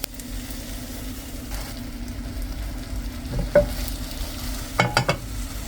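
Food fries in a pan with just a little oil, a soft continuous sizzle broken by a few sharper scraping stirs near the end, with no talking.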